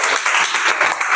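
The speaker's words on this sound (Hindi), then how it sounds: "ताली बजा दे बच्चे के लिए" Children in a classroom clap together for a student, a dense, loud burst of applause with a pulsing rhythm.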